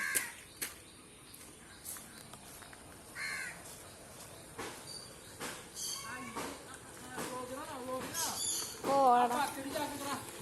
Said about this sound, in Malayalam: കാക്കിയാണ് കേട്ടോ അത്.